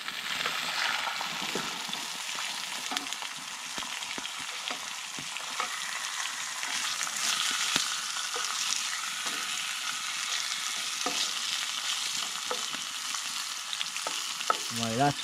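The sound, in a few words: food frying in a pan at bushcraft camp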